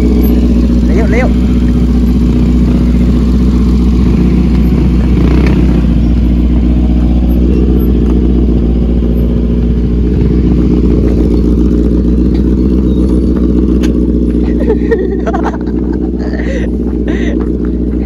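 A motorcycle engine runs steadily and loudly up close throughout on a trail ride to Minalungao, its low drone continuous with some clatter on top.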